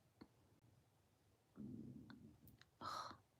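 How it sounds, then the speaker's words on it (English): A hungry stomach rumbles in a quiet room: a low, gurgling growl swells for about a second, followed by a brighter, squeaky gurgle, with small clicks around it and no talking. "Oh, that was my stomach."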